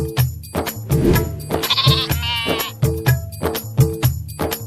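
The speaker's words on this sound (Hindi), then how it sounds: "लेकिन भेड़ें अपनी जगह पर खड़ी रहीं।" Sheep in a cartoon story bleat loudly and close, in a quick run of repeated calls over a rhythmic beat of music.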